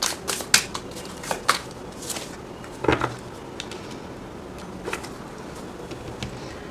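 A slippery tarot card deck being shuffled by hand, a series of soft riffling flutters and light card taps, close up and fairly quiet, with no talking.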